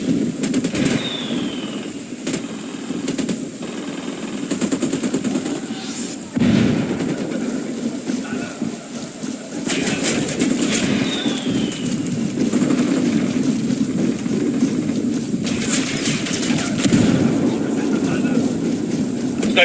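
Gunfire crackles through a Ghost Recon firefight against hostile soldiers, with a steady roar of shots and sharp reports repeating throughout, several loud bursts standing out above a dense, continuous battle din.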